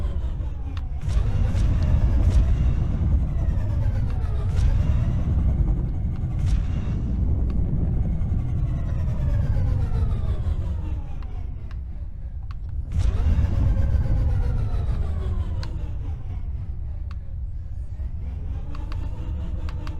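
Spacecraft thrusters in the PC space game SpaceBourne II fire during dodge manoeuvres, a loud continuous rumbling roar with rising and falling whooshing sweeps that swell and fade several times.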